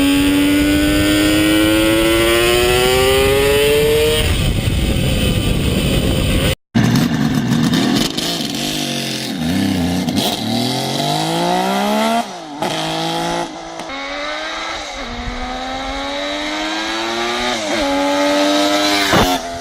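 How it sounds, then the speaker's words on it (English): An old-school carbureted Kawasaki H2 750 three-cylinder two-stroke motorcycle engine, loud and close, revving in rising sweeps with a brief cut, then several shorter blips and climbing revs, raspy and alone without talk. "Old school, 2-stroke, carbureted 3-cylinder front from Kawasaki."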